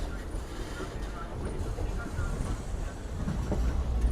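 The Charlapalli–Tirupati special express runs at night with a steady low rumble and rattle of the carriages, rising a little toward the end, as voices murmur faintly in the background.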